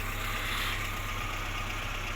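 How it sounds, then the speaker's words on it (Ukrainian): A small, recently repaired engine with new piston rings runs at a steady, fairly quiet idle with an even low rumble and no variation. "От така робота мотора. Досить непогано."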